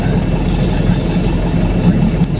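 A Hino 300 service vehicle's engine runs at a steady idle, a loud, close low-pitched rumble with no break.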